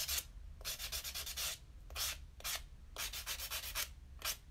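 Natural fingernails buffed with an abrasive nail buffer, giving quiet rhythmic scratchy rubbing strokes in short repeated bursts with brief pauses, close-up and faint, with no speech.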